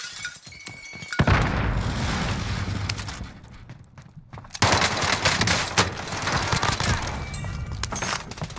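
Grenade explosion and bursts of gunfire in the video game Call of Duty Warzone, a sharp blast followed by heavy, repeated shots and crashes, loud and close, with a quieter lull before firing resumes.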